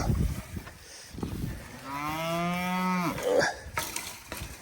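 Cattle on a farm, with one cow giving a single loud, drawn-out moo close by, framed by rustling and clattering around it.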